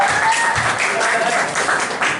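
Audience applause at a church retreat sermon session, a dense steady wash of clapping from many hands lasting the whole stretch, fairly loud and close.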